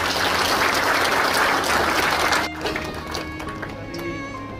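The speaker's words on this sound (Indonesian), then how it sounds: "Tepuk tangan untuk dia." A crowd at a Baptist church congress in West Papua applauds a guest with loud, dense clapping for about two and a half seconds before it cuts off, followed by quieter murmuring and a few scattered claps.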